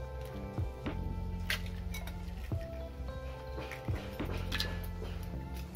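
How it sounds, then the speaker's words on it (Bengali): Eggs are beaten in a bowl for a milk-and-egg pudding, making quick, repeated metallic clinks and taps against the bowl over a steady low background hum. "এবারে আমি ডিমটাকে ফেটে দিয়ে দিচ্ছি"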